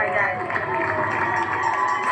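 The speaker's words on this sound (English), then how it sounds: "And the cheers from locals on the Upper East Side." Locals on Manhattan's Upper East Side cheer for healthcare workers, a dense, steady crowd roar with shouts and whistles, loud and continuous throughout.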